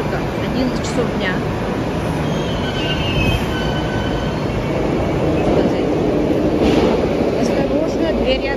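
A Moscow metro train running between stations, with a loud steady roar of wheels and motors, rumbling and rattling throughout, and faint squeals rising above the din.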